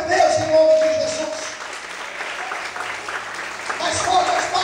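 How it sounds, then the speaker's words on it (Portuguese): A church congregation claps together during a sermon, a broad steady wash of applause that continues throughout, with voices calling out and talking over it. "Quem acredita nisso, aplauda o Senhor"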